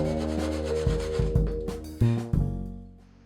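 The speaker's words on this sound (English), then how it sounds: "using a handsaw, I just cut the dovetail into smaller pieces" A handsaw cuts a wooden dovetail spline into smaller pieces, making close, rhythmic rasping strokes that end in a few sharper knocks before fading out, with no voices.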